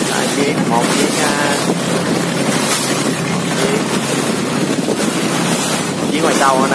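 Fishing boats motor out to sea at Cần Giờ, Vietnam, during a fishermen's lantern festival, their drone buried under loud, constant wind buffeting and surf, with voices talking now and then.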